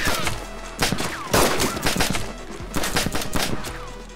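A gunfight in the video game DayZ, with dense, loud bursts of rapid gunfire crackling almost nonstop and overlapping shots with no gaps.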